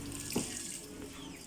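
Water gushing from a faucet whose pipe joint has come off, a steady hiss of running water with a faint knock partway through.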